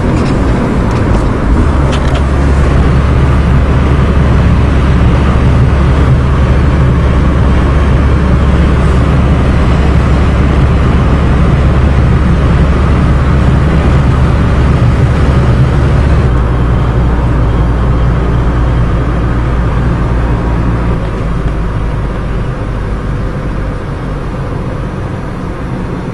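A diesel caravan with a 5-speed pulls away on the road in a windstorm. Its loud, steady engine drone is mixed with wind roar and changes slightly midway as it gathers speed. No one speaks.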